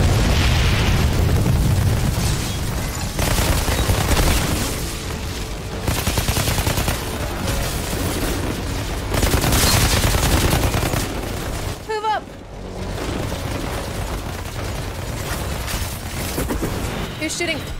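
Sustained gunfire and heavy booms from a firefight in the Outriders action looter-shooter game, loud and dense throughout with bursts and explosions, a brief lull near the middle, with speech mixed in.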